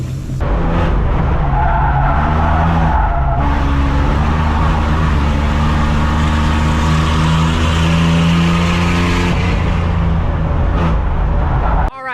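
A race car at a race start roars loud and continuous, its engine revving hard with rising and shifting tones while tires skid and scrub, sustained for about twelve seconds and cutting off abruptly at the end.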